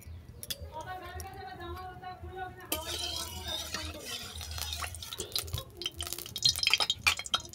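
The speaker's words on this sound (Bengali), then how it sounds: "এরপর কড়াইয়ের মধ্যে দিয়ে দিলাম সরষের তেল।" Mustard oil poured into a wok while preparing a Bengali bata fish curry with raw mango, a light liquid trickle with faint drips and clinks, heard under steady talking.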